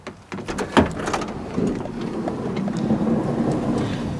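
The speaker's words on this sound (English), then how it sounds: "giving the handle a gentle tug, which will activate the automatic door system" A Honda Odyssey power sliding door slides open automatically with a steady close-up rumble and whir of the motor, preceded by a few sharp clunks and clicks as the latch releases.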